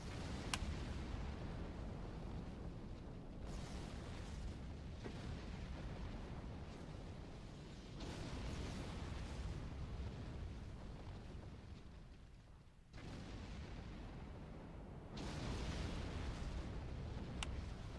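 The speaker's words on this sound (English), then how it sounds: "we got fireworks for the 4th of July now" Fireworks burst in Star Trek Online, repeated booming explosions in several waves with rumbling tails and crackle, fairly distant and loud, with no talk.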